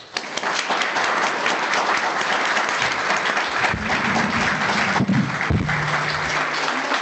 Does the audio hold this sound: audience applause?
yes